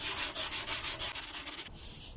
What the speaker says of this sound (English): So basically I sand until I see the ridge disappear and it's starting to feather out.